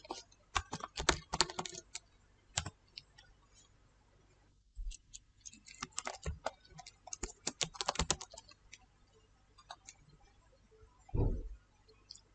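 Typing on a computer keyboard in MS Word: quick, close bursts of light key clicks with short pauses between them, and no talking.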